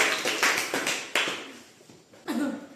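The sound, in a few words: class applause for a student group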